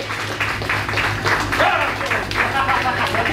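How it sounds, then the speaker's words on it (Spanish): A live audience applauds a band's drummer at a concert in Valdenuevo, rhythmic clapping over a low humming drone with voices faintly underneath. "Por favor, un fuerte aplauso."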